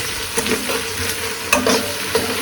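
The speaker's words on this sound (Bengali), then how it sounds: "আমার রোস্টটাকে একটু পর করে নাড়া লাগতেছে কারণ রোস্ট নিচে লেগে যাচ্ছে" Meat roast being stirred in a frying pan at a home picnic cook-up, the spoon scraping and clacking in repeated strokes over a steady sizzle of spices and oil, close and fairly loud.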